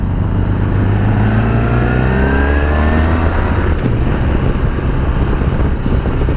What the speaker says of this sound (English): It's got a nice amount of shove on this Honda V4 when you open her up